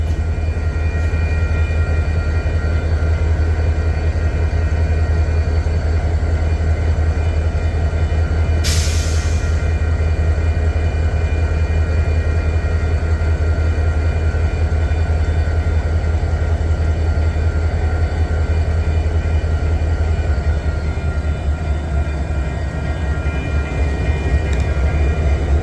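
Union Pacific locomotives pass by, giving a continuous heavy low rumble with rolling rail noise that holds steady throughout, plus one brief sharp squeal or clank partway through. No voices.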